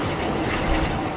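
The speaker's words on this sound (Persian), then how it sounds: "هلیکوپتر محافظ با پرواز بر روی این قایق آن را مجبور میکند که دور شود" An escort helicopter flying low over a boat makes a loud, steady, broadband rotor and engine roar, close and continuous, with no voices.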